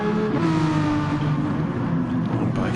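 A Renault Megane Trophy race car drives past on a circuit during an overtake, its engine a loud, steady drone with shifting pitch and a faint voice partly beneath it.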